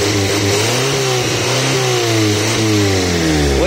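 A 2004 Corsa Evolution 1.8 engine with an unstable idle revving hard, a loud steady roar with rising and falling pitch as the throttle is worked, close up and without speech.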